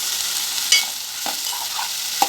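Brinjal and ridge gourd curry gets stirred in a hot pan, a steady close sizzle with a couple of brief spoon scrapes and clicks, no voices.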